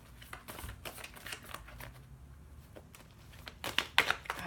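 Brisk card shuffling with soft riffling and flicks, irregular bursts growing louder and crisper toward the end, close by with no talking.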